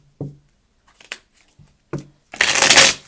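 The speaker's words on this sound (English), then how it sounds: "but I gotta shuffle" Tarot cards are handled and shuffled in sharp, close bursts: a few isolated taps and slaps, then a loud rapid riffle near the end.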